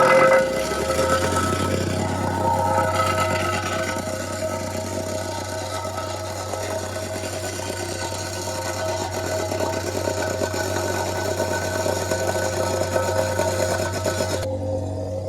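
A Milwaukee battery-powered plate compactor runs over base material, giving a steady, close, low vibrating hum with a rattling texture that holds evenly throughout.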